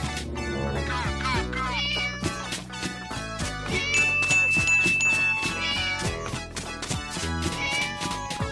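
A cat meows over bright, bouncy cartoon music with chimes and tinkling notes, the meow blending into the steady melodic backing.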